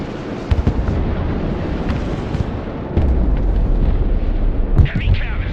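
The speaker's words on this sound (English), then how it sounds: "Laying down suppressive fire." Suppressive fire and explosions in the Broken Arrow war game, sharp gunshot cracks and heavy booming blasts in a dense battle, with a voice speaking over the combat.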